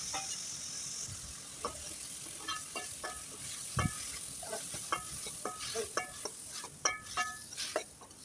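Onion and tomato sautéing in a pan for a chutney, a soft sizzle under repeated spoon stirs and light metallic clinks against the pan, growing busier toward the end.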